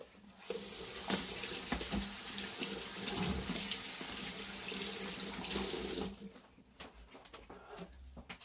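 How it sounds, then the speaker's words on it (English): Hands washed under a running kitchen tap: a steady rush of water into the sink for about six seconds, then brief splashes and drips as the water is turned off, close and moderately loud. "So let me just wash my hands for 2 seconds"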